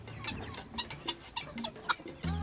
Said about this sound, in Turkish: Ve biz de artık horozumuza Amok Ağaçı diyoruz